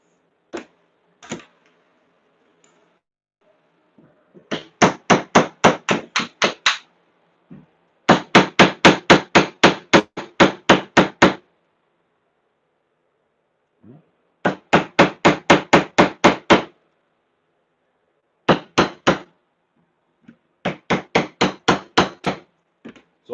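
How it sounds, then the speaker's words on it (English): A hammer smacks knife handle scales clamped in a bench vise, loud sharp wooden knocks in rapid bursts of about eight to ten strikes, separated by short pauses and scattered single taps, with no talk. "the bench and my hammer. I'm just smacking the crap out of it until it complies"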